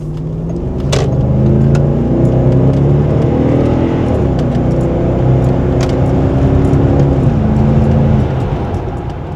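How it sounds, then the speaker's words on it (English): A BMW E53 X5 4.8is V8 engine accelerates hard, its deep note rising through the revs with shifts between gears, loud and steady from start to finish with no voices. "it's still nice to hear that V8 sound"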